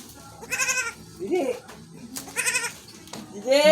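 Several goats bleat nearby in short, wavering cries, mixed with a voice speaking between the calls.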